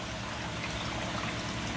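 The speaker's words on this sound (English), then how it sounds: "You can hear the water dripping." Water trickles and drips steadily from a running spin dryer, a soft continuous wash of liquid sound over a low mechanical hum, fairly quiet with no voices.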